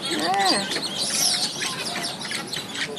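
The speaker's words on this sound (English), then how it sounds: "These ducks don't quack, they whistle. Hear their little cute little whistles?" Several wandering whistling ducks give high, thin whistling calls, overlapping chirps at close range over a faint background.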